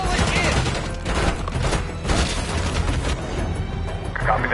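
Airstrike explosions in the Call of Duty Black Ops 6 campaign, loud rumbling booms and crashing blasts in rapid succession filling the scene, with radio chatter mixed in.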